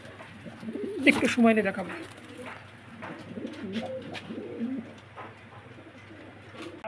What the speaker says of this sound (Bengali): একটা নতুন জাত, নতুন কবুতর